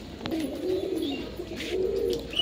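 Pet pigeons coo close by, a few soft, throaty rolling calls repeating in quick succession over a quiet background.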